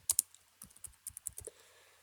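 Computer keyboard typing a file name while saving a SolidWorks dice part: a quick burst of sharp, close key clicks in uneven clusters, quiet and with no talk.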